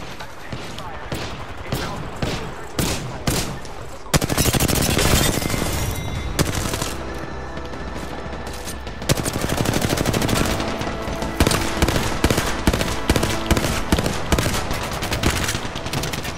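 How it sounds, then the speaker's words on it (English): Sustained gunfire in the video game Apex Legends, with rapid bursts and single cracks layered over dense battle effects, running loud and nearly continuous throughout. "I'm taking fire."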